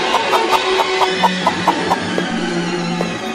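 Chicken clucking in a steady series of short, sharp calls, close and fairly loud, repeating roughly every third of a second before thinning out, with no voices.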